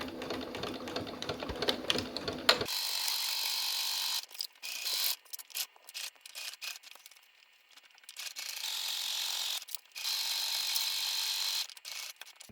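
A sewing machine stitches a tote bag pocket in several bursts of rapid mechanical whirring, each run separated by brief pauses, close and clear, after a short opening stretch of quieter handling noise.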